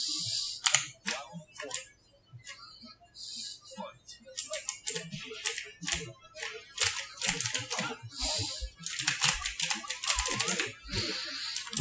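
Rapid, irregular clatter of computer keyboard keys pressed in bursts while playing the fighting game Tekken 7, close and fairly loud, with short pauses between flurries of clicks.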